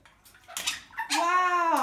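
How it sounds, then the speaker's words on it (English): Parrots in a flock splash about while bathing in water bowls, giving short bursts of splashing followed by a loud bird call, all close by. "I just heard water splashing everywhere."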